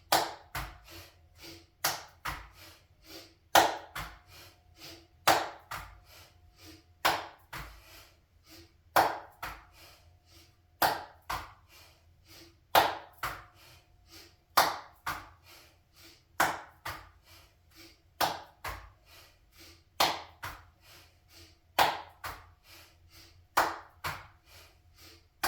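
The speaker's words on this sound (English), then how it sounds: "And now we're going to switch to have the claps." Sharp hand claps repeat at a steady, unhurried pace through a Kundalini kriya breathing exercise, each crisp clap standing alone against a quiet room with no voices.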